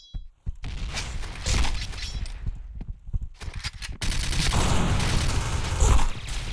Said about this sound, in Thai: ระเบิด